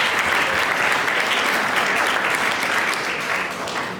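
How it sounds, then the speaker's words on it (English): Audience at a pageant applauds loudly and steadily for the team candidates and talent, a dense, sustained wash of clapping that holds for the whole stretch and eases slightly toward the end. "let's give a big round of applause to all of our team candidates and talent"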